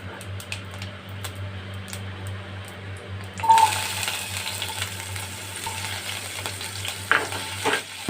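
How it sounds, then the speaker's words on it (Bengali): Oil suddenly bursts into a loud, steady sizzle as potatoes hit the hot wok, with occasional clinks of a utensil and no talking. "এর মধ্যে আমি আগে আলুগুলো ভেজে নেব"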